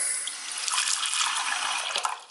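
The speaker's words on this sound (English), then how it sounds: "First thing we're gonna do is add water." Tap water runs steadily into a container being filled to clean paintbrushes, a bright continuous splashing hiss close by that eases slightly at the end.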